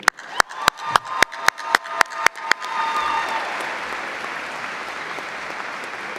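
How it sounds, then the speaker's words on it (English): A few loud, distinct claps ring out close by, then broad applause from a commencement audience at a journalism college ceremony swells and holds steadily to the end. "please, one more applause for Deanna and for Eve"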